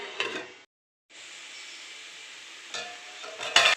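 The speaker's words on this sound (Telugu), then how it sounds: "క్యాబేజీ పచ్చివాసన అంతా పోయేంత వరకు బాగా ఆయిల్లో ఫ్రై చేసుకోవాలి" Shredded cabbage fries in oil for a curry, a soft steady sizzle broken by a brief gap and a few louder stirring scrapes near the end.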